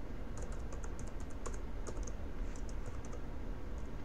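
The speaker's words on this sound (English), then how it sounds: "you can test the installation just by typing" Computer keyboard typing a command into a Linux terminal: a steady run of quick, light key clicks, close and alone, with a few pauses between keystrokes.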